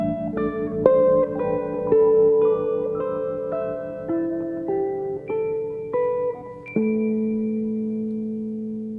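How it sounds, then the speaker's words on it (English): Sampled guitar plucks and Rhodes electric piano from a jazz record ring out as a short melodic phrase of sustained, layered notes, fairly loud and alone with no talking. "I found this nice section which sounds like some guitar plucks and maybe a Rhodes"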